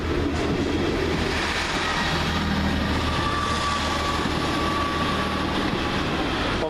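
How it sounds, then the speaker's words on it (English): A Northern Rail diesel train to Hull idles and rumbles at Doncaster station, a continuous, fairly near low drone with a faint high whine, steady throughout with no talk. "Next train up, the 1152 Northern Rail service to Hull."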